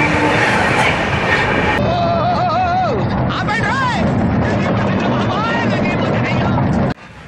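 Swarna Jayanti Express heard from onboard while moving fast and swaying, a constant loud rumble of coaches with wavering tonal squeals and whines over it, cutting off sharply near the end.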